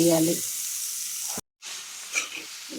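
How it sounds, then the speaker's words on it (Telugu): Prawns frying in masala with coconut and cashew powder in a pan, a broad hissing sizzle that breaks off briefly into silence, then returns softer with faint stirring scrapes. "కొంచెం గరం మసాలా, దీనిలోకి చేసి పెట్టుకున్న కొబ్బరి, జీడిపప్పు పౌడర్ వేసి మళ్ళీ ఫ్రై చేయాలి"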